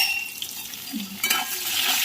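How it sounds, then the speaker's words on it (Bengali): Lightly salted eggplant slices go into oil left from frying bitter gourd, giving a close hiss that swells after a brief utensil clatter, with no one speaking. "এবার এই তেলেই বেগুনটা ভেজে নেব"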